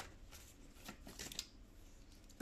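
Tarot cards are shuffled for a love reading, a soft, close, continuous riffling and sliding with no talking, ending in a sudden louder knock.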